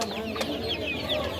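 Chickens cluck continuously at a bustling poultry market, with overlapping soft clucks and occasional sharper calls over a dense, steady background din, fairly faint and distant.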